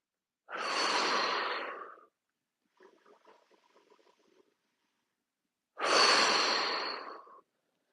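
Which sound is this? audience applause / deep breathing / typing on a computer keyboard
deep breathing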